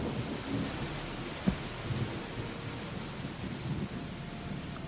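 Steady heavy rain in a video game (Gothic) hisses continuously, with a low rumble underneath and one brief thud partway through.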